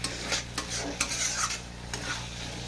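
Raw jackfruit and prawns are sautéed in a pan, with a soft sizzle under repeated scraping stirs from a utensil. The clatter is close, quiet and intermittent, and no voices are heard.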